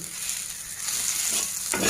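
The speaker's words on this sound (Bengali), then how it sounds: "এটা আমি আরেকটু ভাজা ভাজা করে নিই" A pan of fish frying gives a brief, close sizzle with light crackle that swells slightly toward the end.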